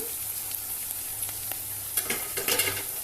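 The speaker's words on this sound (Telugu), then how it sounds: "బాగా ఎర్రగా వేగనిద్దాము" Brinjal and dried fish frying in a pan for a Nellore-style dried fish and brinjal curry, cooked until well reddened, with a soft steady sizzle, stirring scrapes and louder spatula clatter near the end.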